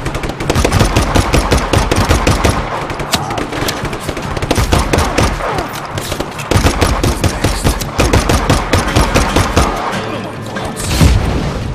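Sustained SMG fire from the video game Just Cause 3 rattles in dense, rapid bursts almost without a break, loud and close, with heavier booms mixed in near the end.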